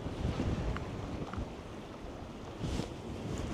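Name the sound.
wind blowing at the shore during cod fishing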